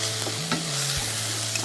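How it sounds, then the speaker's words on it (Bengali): Spices and ginger paste stirred in a hot pan, a close, steady sizzle with a brief scrape of the spoon partway through, no voices. "এটা একটু নাড়া দিয়ে আমি"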